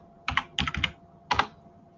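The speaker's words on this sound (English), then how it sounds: "Type in fitness." Someone types a search word on a computer keyboard: three short, close bursts of crisp key clicks separated by brief pauses, over faint background hum.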